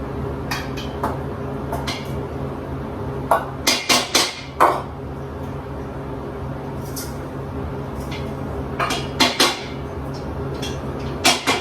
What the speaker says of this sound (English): So I'm going to start by creaming my butter and my sugar together.